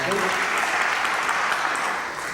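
An audience in the Jerusalem Great Synagogue applauds after a speech, a loud sustained wash of clapping that carries on evenly and tails off slightly at the end.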